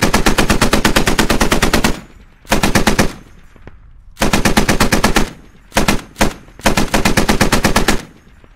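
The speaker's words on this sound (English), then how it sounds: "And here we have it with the Browning 50 cal." Browning .50 caliber machine gun firing in the video game Squad, loud close sustained bursts of rapid, evenly spaced shots separated by short pauses, with brief and longer strings of fire.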